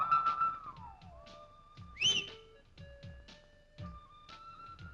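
A person whistles a sliding, wavering tune in short bursts, with one sharp high whistle near the middle, clear and fairly close over quiet background.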